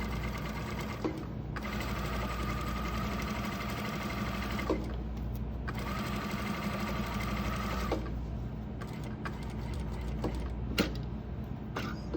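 Sewing machine stitching a curved shirt cuff in several continuous runs, a rapid mechanical whir that stops and restarts with brief pauses, clicks and handling noises between bursts.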